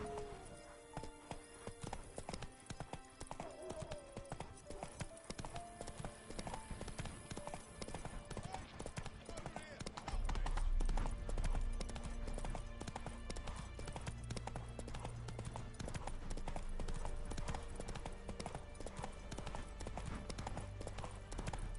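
Horse hooves clip-clopping in rapid steady rhythm in the Witcher 3 video game, fairly quiet under game sounds, with a deeper rumble joining partway through.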